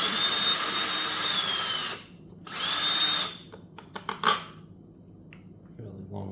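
A power drill backing screws out of a Harbor Freight Predator 9500W inverter generator: two loud close whirring bursts, then quiet clicks and clatter of handled parts.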